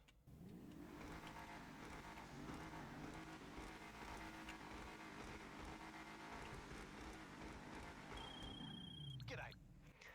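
Albany V-STR, a Cadillac CTS-V-style car in GTA Online, runs its engine with a steady, full, close-up rumble for about ten seconds, a brief rising rev near the end.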